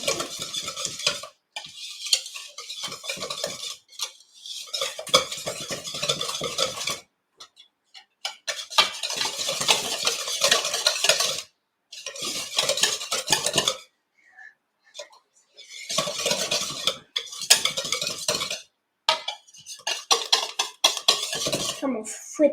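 Lemon cake batter being whisked in a bowl makes bursts of rapid clicking and tapping, stopping and restarting several times with short quiet gaps, close up and without talk.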